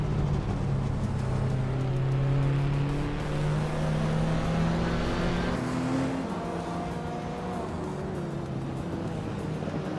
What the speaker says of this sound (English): the race is underway at Automotodrome Grobnik, and leading the pack is Botkamoni in a classic 1987 Ford Sierra RS500 Cosworth